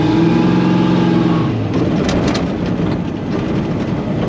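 A 1000-horsepower street car with new front drag control arms, upper and lower, drives on the road. A loud, steady engine drone dominates the clip, with a lower rumble and wind-like roar rising after the first moment.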